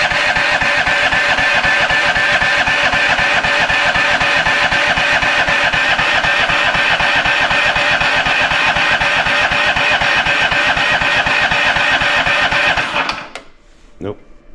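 A Lull forklift engine, its carburetor just drained, cranks loud and fast for about thirteen seconds without catching, then cuts off into near silence with a brief faint knock.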